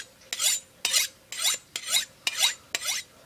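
A knife blade is drawn across the spine of another, harder knife during sharpening, giving six evenly spaced, bright metallic rasping strokes, each a short scrape. They are close up and loud, with no talking.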